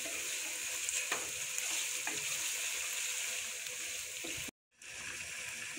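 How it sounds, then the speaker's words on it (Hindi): Chicken liver with garlic fries in a pan, a steady broadband sizzle with a few stirring scrapes, broken by a brief gap near the end before the frying resumes. "ये अच्छे से फ्राई हो रहा है"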